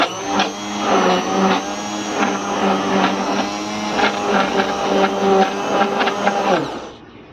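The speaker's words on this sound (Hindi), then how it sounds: "अब हम ब्लेंडर चलावेंगे।" A kitchen blender runs steadily, whirring loud and close for about seven seconds as it mixes khandra batter of gram flour and water, with no one talking, then cuts off sharply.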